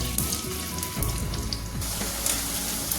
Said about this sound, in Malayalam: നമുക്കിതിലേക്ക് തന്നെ ഇഞ്ചി ഇട്ട് ഒന്ന് വറുത്തെടുക്കാം